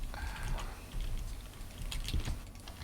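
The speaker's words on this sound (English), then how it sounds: "the cacophony of the wonderful clicky keyboard" Fast, steady typing on a clicky computer keyboard during a launch livestream, a dense run of quiet clacks close to the microphone with no voices.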